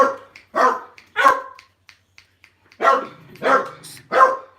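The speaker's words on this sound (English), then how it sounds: "Dogs." Dogs bark loudly and close by in sharp bursts, a quick run of three, a short pause with faint clicks, then three more barks in steady rhythm.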